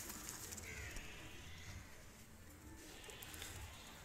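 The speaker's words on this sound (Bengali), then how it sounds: "এই দুটো গোল্ডেন বেবি কবুতর, খুবই চমৎকার কবুতর" Golden baby pigeons with blood-red eyes coo faintly and sporadically against a steady background hiss while being let loose; the birds sound fairly distant and quiet.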